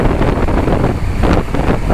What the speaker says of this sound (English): Look at the wind which is blowing actually.